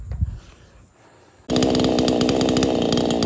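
A PROYAMA 68cc chainsaw being broken in sits quiet for a moment, then roars in abruptly as a loud, steady, close buzzing run.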